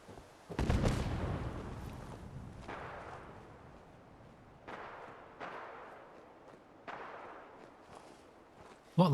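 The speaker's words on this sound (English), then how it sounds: "So we've got gunfire coming in somewhere, from somewhere." Gunfire in the video game Fallout 4: several sharp, distant reports at irregular intervals. The first is the loudest and booms with a long rolling tail, and the later shots sound fainter and echo.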